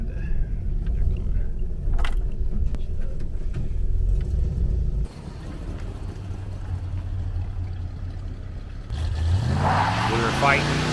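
A patina-covered 1971 Chevy El Camino A-Body streetcar with an open differential doing a burnout: a deep, loud engine rumble drops briefly, then surges again with rising roar and tire noise near the end, with people talking over it.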